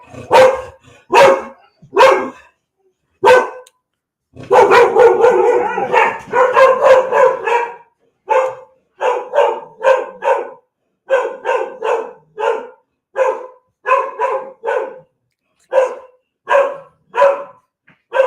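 A dog barks repeatedly at close range inside a home, in sharp single and double barks with a dense run of rapid barking partway through; no one speaks.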